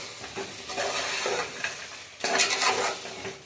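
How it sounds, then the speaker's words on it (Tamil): A spoon stirs a vegetable biryani mixture with soaked peas in a pot, giving continuous scraping and sizzling with bursts of louder scraping, close and moderately loud, with no talk. "எல்லாத்தையும் ஆட் பண்ணி நல்லா கிளறி விட்டுக்கலாம்."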